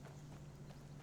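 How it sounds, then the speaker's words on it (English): Horse hooves clip-clop steadily in Skyrim, a soft, even run of muffled footfalls under a low constant hum, with no talking. "oh, was that my horse?"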